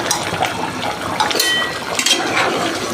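Potatoes being stirred and fried in a pot for a Bengali katla fish-head muri ghonto with tomato paste, giving a steady, close, crackling sizzle and hiss that runs without a break.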